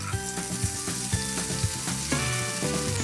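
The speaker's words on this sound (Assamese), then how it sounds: "আলু আৰু ছজিনাখিনি মই 2 মিনিটমান ফ্ৰাই কৰি লওঁ" Potatoes and drumsticks fry in hot mustard oil with five-spice seeds, a dense continuous sizzle with light clinks of stirring, close and steady throughout.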